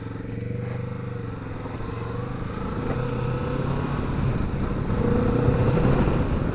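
A Kawasaki Vulcan S motorcycle fitted with a Puig windscreen rides along with a steady engine drone and wind rush that slowly builds in loudness, heard from the rider's position.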